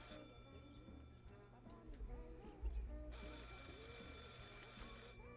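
A telephone rings in the Martha Is Dead video game, with a bright repeating ring rising over game ambience, ticking sounds and a voice talking in the background.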